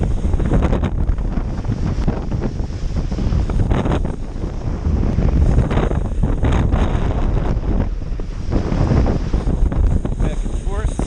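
Strong wind gusts buffet the microphone while kitesurfing with a 12m kite and board on the water, a loud continuous rushing roar with surging peaks, some talking mixed in.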